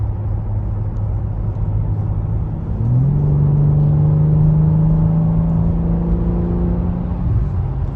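A 2022 BMW M3 Competition xDrive with all-wheel drive accelerates smoothly, its engine note rising in pitch as it pulls hard after a steady rumbling idle, loud and close with no talking.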